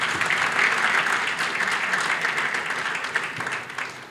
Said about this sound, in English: Clap for that as well.